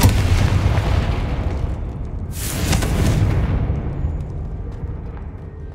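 A Confringo blasting spell from Hogwarts Legacy explodes loudly with a deep booming burst, followed by a sharp crackling flare and a long rumbling decay.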